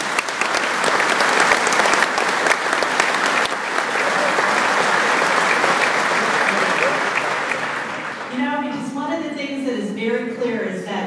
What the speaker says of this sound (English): I'd like all of us to give Sandy a big round of applause for his leadership.